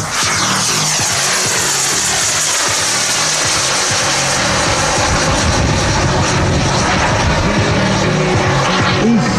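Aerobatic canard-configured propeller airplanes take off together at an airshow in Beugin, France, their engines roaring loud and continuous with a steady rising drone and broadband rush throughout.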